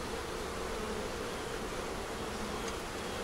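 Honey bees buzz around a hive with a top box of stores, brood and foundation, forming a dense, even drone that fills the whole moment without a break, steady and moderately loud.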